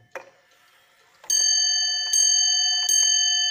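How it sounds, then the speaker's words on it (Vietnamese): A German wall clock chimes three clear, ringing strikes spaced about a second apart, each one sustaining a bright, harmonically rich bell tone that lingers into the next, after a soft mechanical click. "Rồi 3 giờ nè, thì chuông nó sẽ gõ 3 nhịp."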